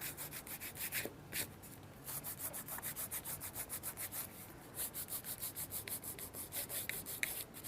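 A cloth rubs dried rubber cement off a leather Christmas ornament with snowflake stitching. Quick, rhythmic back-and-forth scrubbing strokes repeat steadily throughout, faint and close.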